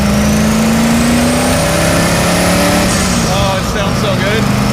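A Datsun fitted with a rotary engine, the Rotsun, revs hard on a chassis dyno, a loud sustained engine roar climbing in pitch, then a shift and a falling note near the end.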